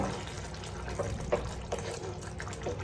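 Ivy gourd gravy bubbles in a pan, with soft, irregular plops and simmering pops over a gentle steady hiss, close and quiet.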